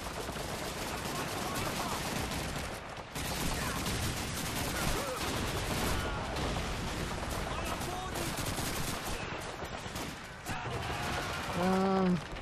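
Gunfire fills a World War II battle in the video game Call of Duty 2, with dense overlapping rifle and machine-gun bursts continuing steadily at fairly low level, and a short tonal sound near the end.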